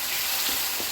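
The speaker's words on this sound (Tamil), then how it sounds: "அரைச்சி வச்சுருக்க தக்காளியும் வெங்காயமும் பேஸ்ட்டு நல்லா ஆட் பண்ணிவிட்டு அது பச்சை வாசனை போகிற வரைக்கும் நல்லா வதக்கணும்." A ground tomato and onion paste sautés in a pan with a dense, even sizzle and a faint stirring touch, a short close burst with no speech.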